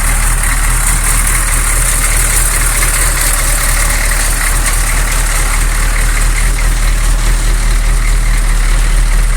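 A 1986 Chevy K30 military truck with a non-turbo 6.2-liter Detroit diesel idles steadily and loudly, a constant low rumble with a clattering texture throughout, close up, with an exhaust leak.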